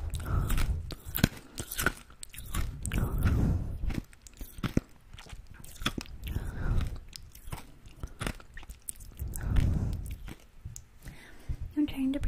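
Close, intimate chewing and wet mouth sounds with soft breathing, crunchy and squishy bites recurring unevenly throughout, recorded very near the microphone in an ASMR setting.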